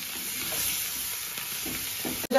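Masala for a broiler chicken gravy is being stirred and fried in a pan. A steady close sizzle runs under soft scraping strokes of a spoon, and a brief clatter comes near the end.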